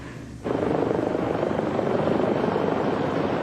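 A Life Flight medical helicopter roars in close and loud, its rotor wash and engine starting abruptly, then holding as a dense, continuous thrum.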